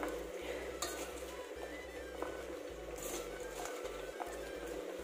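A small electric mini chopper whirs in short pulsed bursts while chopping salad vegetables with coriander leaves in a home kitchen, its low motor hum starting and stopping repeatedly with faint rattling, quiet and close.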